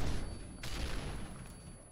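Two flashbang grenades go off in Modern Warfare 2, each a sharp, bright burst about a second apart over a low, rumbling gunfire backdrop that fades toward the end.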